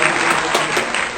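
A small group of people clapping steadily, a continuous burst of applause with no voices over it.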